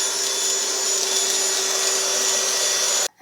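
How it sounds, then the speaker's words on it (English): A G-Tech Multivac cordless vacuum cleaner with a brush attachment runs in a steady, loud, high-pitched whine with a constant hiss. It sounds close and stays unchanging until it cuts off abruptly at the end. "this G-Tech multivac is it's got a brush attachment on the end"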